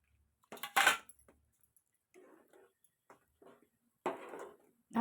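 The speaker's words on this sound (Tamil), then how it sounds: "ஊற்றி நல்லா கிண்டி விட்டுருங்க." A spoon stirs coconut paste into appalam kuzhambu simmering in a pot, giving scattered metallic clinks and scrapes in short bursts, the loudest near the start, separated by quiet gaps.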